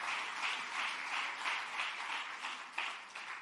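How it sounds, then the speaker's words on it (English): Crowd applause for the Seattle Opera at a Malcolm X commemoration at the Shabazz Center, a continuous rippling round of clapping from a hall audience, even and fairly distant, with no voices. "I want to just give another round of applause to the Seattle Opera."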